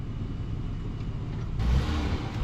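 A Dodge Charger mired in mud revs in reverse, a steady low engine rumble that swells louder partway through as the throttle opens, with no talking.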